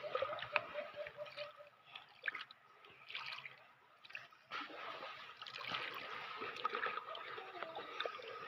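Water is scooped and poured in splashy, dribbling bursts that come and go, close by, with faint background sounds between.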